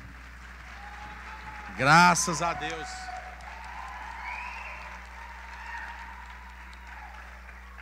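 A church congregation at a praise and worship seminar applauds, a soft, distant wash of clapping that continues throughout, with one voice briefly speaking up near the start.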